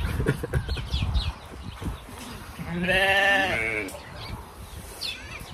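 A sheep in a village in Senegal lets out a loud, wavering bleat in the middle, with scattered rustles and thumps before it and faint animal calls around, close and without talk.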